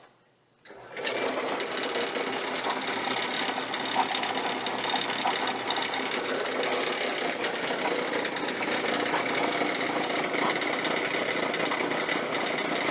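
A RockCan crusher machine starts with a sharp clack and then runs continuously with a dense, steady mechanical rattle and motor drone, close and even throughout.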